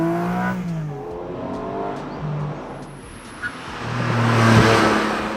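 Porsche 718 Spyder's 4-litre naturally aspirated flat-six engine pulling hard, its note rising and falling through revs, loud and close with a steady growl and no talking.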